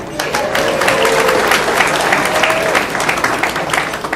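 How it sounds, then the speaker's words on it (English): An audience applauds and cheers at a mayor's gala, dense sustained clapping throughout with a voice heard over the crowd. "so you can give her a second cheer"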